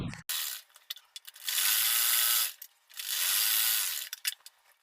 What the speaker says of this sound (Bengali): পাশ থেকে আমি আর একটি সেলাই সেম ভাবে দিয়ে দিচ্ছি